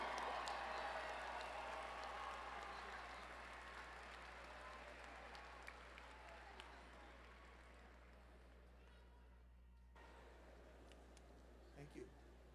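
Applause from a large crowd at a fall business school commencement, loud at first then gradually thinning and fading away over several seconds before falling nearly silent.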